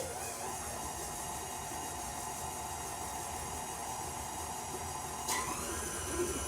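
A stand mixer creams sugar cookie dough with a steady, continuous motor whir and mechanical hum that holds at an even level throughout, close by, with one brief clunk near the end and no talking.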